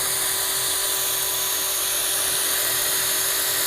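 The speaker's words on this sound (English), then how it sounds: "I'm going to go ahead and turn my drill on" A DeWalt variable speed drill runs continuously up close, giving a loud, steady high-pitched whine with no breaks.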